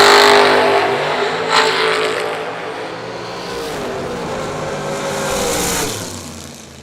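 A dragster's engine roars along a drag strip at an IHRA World Finals event, loud and sustained, its pitch sweeping upward then easing off as the car launches and pulls away.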